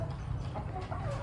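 Hens in battery cages clucking in a steady, busy chorus under a constant low hum, several birds overlapping at close range.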